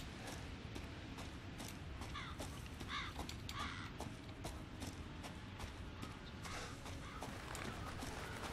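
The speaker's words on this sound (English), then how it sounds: "Some birds, crows." Crows caw in the bayou of the horror game Resident Evil 7: a few harsh, scattered calls over a dense, rumbling ambient backdrop with faint scraping movement.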